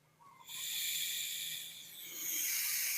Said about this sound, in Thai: ได้ยินเสียงแก๊สไหม